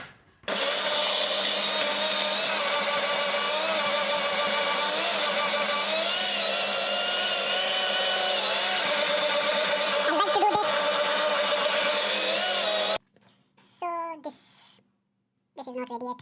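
A kitchen mixer grinder whirs loud and steady for about twelve seconds while grinding dry fish masala for a South Indian dry fish curry, then cuts off abruptly, followed by brief speech.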